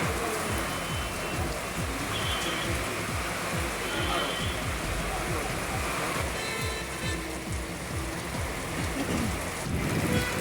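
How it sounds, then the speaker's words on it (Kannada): Heavy rain pours down in Chitradurga, Karnataka, a dense, steady rushing hiss that holds loud and unbroken throughout. "ಕೋಟೆನಾಡು ಚಿತ್ರದುರ್ಗದಲ್ಲಿ ಧಾರಾಕಾರವಾಗಿ ಮಳೆ ಆಗ್ತಾ ಇದೆ"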